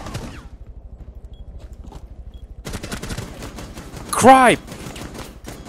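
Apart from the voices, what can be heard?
gunfire from Rainbow Six Siege video game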